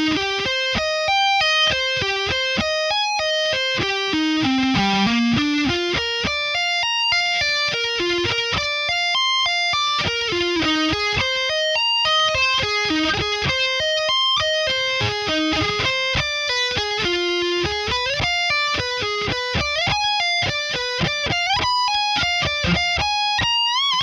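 A steady, repeating tapped arpeggio pattern on distorted electric guitar, played slowly, rising and falling in smooth waves, loud and unbroken throughout.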